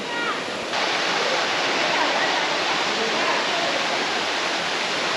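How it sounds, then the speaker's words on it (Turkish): High waterfall pouring into a pool, a loud, steady broadband roar of falling water that fills the whole clip, close and continuous. "Şelale çok yüksekten atıyor."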